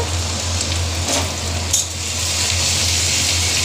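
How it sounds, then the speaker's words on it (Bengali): Ginger and garlic fry in hot oil, making a continuous, even sizzle close by, with a low steady hum underneath and a brief utensil clink near the middle. "আদা আর রসুনটা সুন্দর ভাজা ভাজা হয়ে গেছে"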